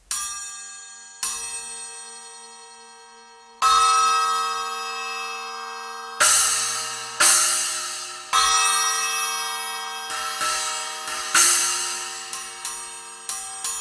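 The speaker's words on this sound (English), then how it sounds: "the bell is a very heavy cymbal, so high pitch and long sustain" A heavy Paiste bell cymbal is struck repeatedly. Its bright, high-pitched ring sustains long between hits, and the hits come quicker and overlap toward the end.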